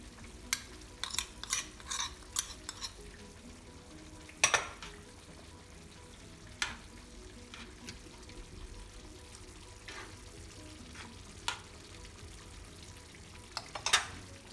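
Flour dissolved in water is stirred in a pan while cooking cilok, with faint sizzling and scattered sharp clicks of a utensil against the pan, quiet and close.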